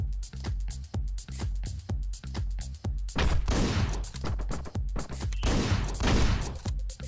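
Rapid gunfire in the Hotline Miami video game aimed at a boss, a string of sharp evenly spaced shots followed by denser bursts of overlapping fire, loud and close, no talk.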